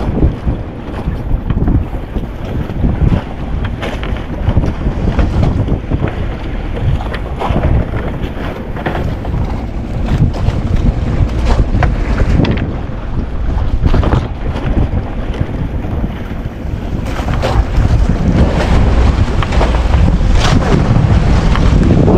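A small boat heads out to sea through big waves, heavy wind buffeting the microphone and water crashing and rushing continuously around the hull, loud and close for the full stretch.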